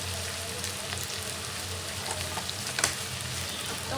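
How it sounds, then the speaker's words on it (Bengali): Onions and potatoes frying in a pan with fenugreek seeds give a steady, close sizzle that runs throughout, with a brief stir or clatter near the end. "সুন্দর করে কিন্তু পেঁয়াজ আর আলুটাও ভাজা হয়ে গেছে।"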